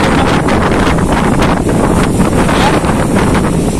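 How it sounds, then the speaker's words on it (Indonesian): Strong west wind blowing hard at a seaside cliff, a constant loud roaring buffet across the microphone with the sea faintly beneath, no pause throughout. "Nih angin barat kencang sekali."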